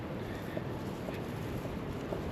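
Steady, rushing wind noise from gusts of about 50 buffets the microphone throughout, a constant broadband roar with no voices.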